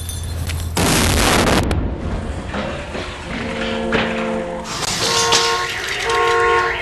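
A vortex cannon fires with a loud, sudden explosive blast that roars for about a second, followed by a rumbling mechanical hum and tonal honking sounds.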